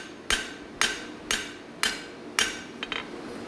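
Five evenly spaced hammer blows ring out on metal being spread and roughed out, each a sharp bright strike with a short decay, followed by a pair of lighter taps, close and alone without talk.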